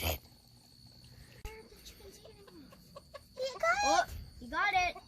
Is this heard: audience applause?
no